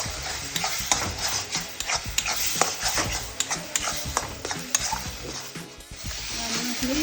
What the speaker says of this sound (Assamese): এইখিনি এতিয়া মই ভাজিম। যেতিয়ালৈ তেল উঠে তেতিয়ালৈ ভাজি দিছোঁ